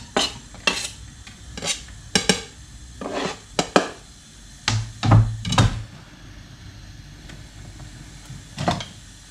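One crushed garlic clove gently frying in a pan, heard as short bursts of stirring and scraping with a soft sizzle underneath, irregular and close, no voices.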